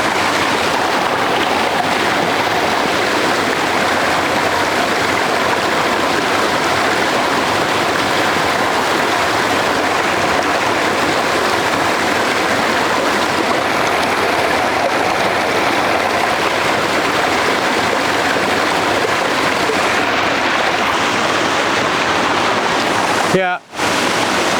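A flowing trout stream rushes steadily and fairly loudly, a continuous broadband wash of moving water that barely changes, ending with a brief dropout.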